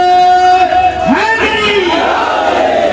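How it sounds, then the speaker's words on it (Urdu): A crowd at a religious gathering chants slogans in loud, swelling unison shouts that rise and fall in pitch. "آپ لوگ تھوڑا اپنا کمال دکھائیے، بولے نعرے"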